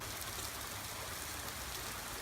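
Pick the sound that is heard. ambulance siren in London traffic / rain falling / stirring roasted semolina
rain falling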